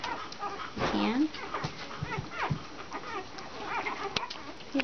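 Bottle-fed puppies whimper and squeal up close, with a short high whine among soft suckling and shuffling noises, while people talk nearby.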